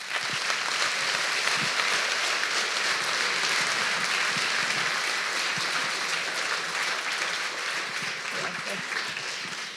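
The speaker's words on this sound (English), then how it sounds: "I just let the crowd cheer for you." An audience at a Stretch 2020 talk on performance feedback claps steadily and loudly for nearly ten seconds, a dense, even wash of applause with no talking over it.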